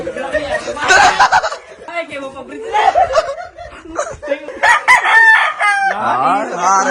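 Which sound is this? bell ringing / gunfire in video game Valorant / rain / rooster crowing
rooster crowing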